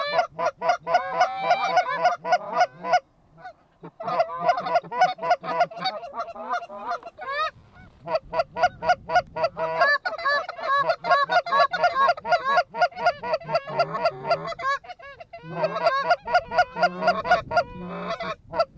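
Flocks of geese honk loudly and continuously during an early-season goose hunt over decoys, calls overlapping in dense, rapid bursts close by with only brief lulls.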